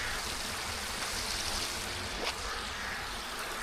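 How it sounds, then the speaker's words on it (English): Water flowing out of Lanark Loch, a soft, steady rushing wash with no talk. "Again, you see quite an outflow of water from here."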